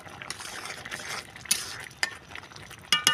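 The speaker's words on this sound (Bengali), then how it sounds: "এখন আমি ঢাকনাটা খুলে নেব" A metal lid comes off a pot of simmering mung dal cooked with katla fish head, giving a few distinct metallic clinks and scrapes over a soft bubbling hiss, close up and fairly quiet.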